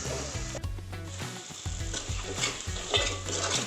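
Onion masala sautéing in a pan for sardine curry, a soft sizzle under scraping stirs and light utensil clinks, close and moderately quiet, with a steady low tone running beneath.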